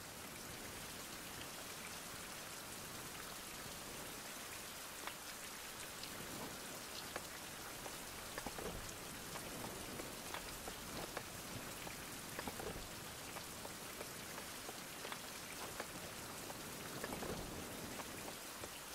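Steady rain falls in the survival video game Survival: Fountain of Youth, a dense even hiss of drops on surfaces lasting throughout with occasional louder patters, no voices.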